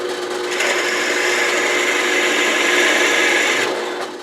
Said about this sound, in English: I'm going to drill a 1 1/2 inch hole